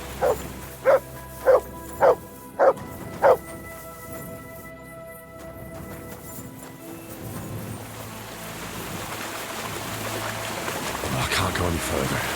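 Five sharp, evenly spaced dog barks from a dog named Mark in the medieval game Kingdom Come: Deliverance II, loud and close, followed by rising outdoor ambience with water.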